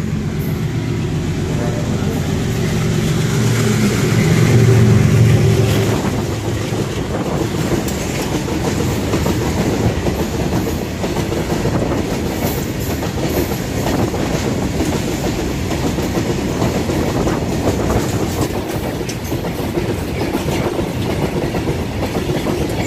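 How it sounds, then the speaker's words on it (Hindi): A train pulls into a railway station on a single track where three trains arrive one after another, with a steady rumbling rail and wheel noise that swells early, then settles into a continuous clattering roll. "तीन तीन रेल आने लग रही हैं, एक ट्रैक एक रेलवे स्टेशन पर लगातार तीन तीन रेल"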